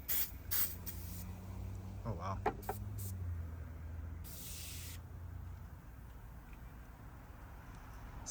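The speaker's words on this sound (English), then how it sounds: "I'm just gonna spray this on the battery directly" Cleaner sprays from a can onto the corroded battery terminal of a Ford Mustang in short hissing bursts, near and clear, with a brief exclamation from a person between them.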